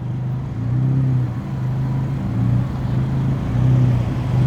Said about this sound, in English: got a nice Supra coming in.